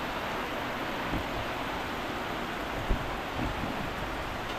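Heavy rain pours down in a steady, dense hiss that stays close and even throughout, with a few faint knocks underneath and no voices.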